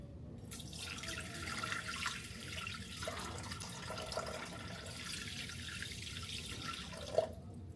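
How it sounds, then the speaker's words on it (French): Water pours steadily into a container for a white bread recipe in a home kitchen, a continuous close trickle lasting several seconds and ending with a small clink. "premiers ingrédients, on met de l'eau"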